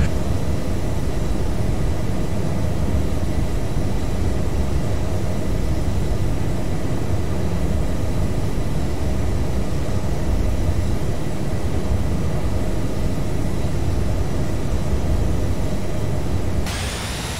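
Boeing 757 cockpit with a Pratt & Whitney engine sound set in a flight simulator, giving a steady, loud, broadband jet engine roar that holds constant throughout with no talk.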